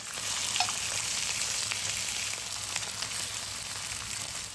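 Steady, even sizzling and crackling of chicken liver frying in a hot pan, continuous throughout with no voices.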